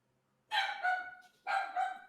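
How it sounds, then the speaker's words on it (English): A dog barks in two quick double bursts, loud and near, against otherwise quiet surroundings. "Silly dog."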